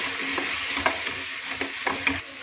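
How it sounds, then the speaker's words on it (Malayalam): Ginger garlic paste frying in a pan for beef dum biryani gives a close, even sizzle, with a few sharp stirring taps spread over the short stretch. "അല്പം ഇഞ്ചി വെളുത്തുള്ളി പേസ്റ്റ് ഒന്ന് ചേർത്ത് കൊടുക്കാം. ഇതും കൂടി ഒന്ന് നന്നായിട്ട് മിക്സ് ചെയ്തിട്ട്"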